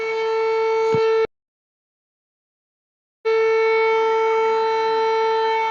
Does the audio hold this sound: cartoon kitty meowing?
no